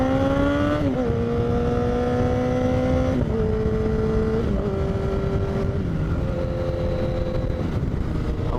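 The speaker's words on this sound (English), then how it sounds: "I personally think that it's a bit of a safety feature to have a loud exhaust." A motorcycle fitted with a loud Toce aftermarket exhaust revs up and down in several strong, sustained pulls, the engine note rising and dropping in steps, close and loud with no talking.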